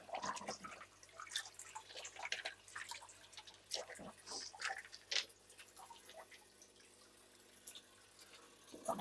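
Water splashing and dripping as something is rinsed out in a fish room, faint scattered trickles and drips close by, with quiet speech mixed in.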